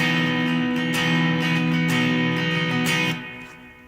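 Distorted electric guitar strums a sustained rhythm part, chords ringing thick and loud with a few fresh attacks before fading out near the end.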